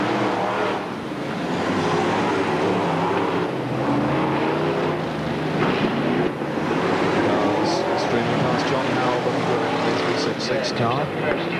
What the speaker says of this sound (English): the dust really is rising now as the cars come through